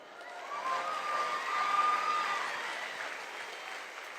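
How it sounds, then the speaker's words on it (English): Scattered applause from an audience at a political summit swells gently and then fades, a soft diffuse patter heard from a distance. "I'm not getting a lot of claps by young men"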